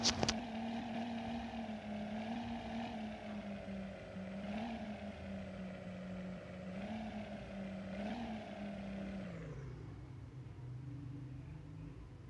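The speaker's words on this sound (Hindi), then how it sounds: "गाड़ी का साउंड ज़रा आप लोग सुन लो" A steady Mercedes-Benz AMG GT engine hum in the video game Car Parking Multiplayer, with a few slight rises in pitch, then settling lower toward the end, fairly quiet and continuous.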